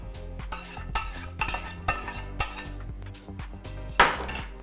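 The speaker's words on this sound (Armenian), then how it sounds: "Հիմա մի հատ խառնում ենք," A utensil stirs sauce into knafeh dough with cheese in a pan, giving a close series of rhythmic metallic scrapes and clinks roughly every half second, with one stronger scrape near the end and no talk.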